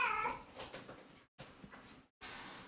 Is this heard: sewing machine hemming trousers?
no